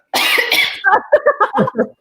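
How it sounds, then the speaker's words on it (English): A close, harsh burst of coughing: one long rasping cough followed by a quick series of shorter hacking coughs. "People got scared because I started coughing."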